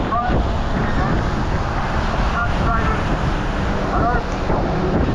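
Ocean surf washing in and dragging back out at a busy, flagged swimming beach, with wind buffeting the microphone throughout; a steady, loud roar of waves and wind with faint voices in the background.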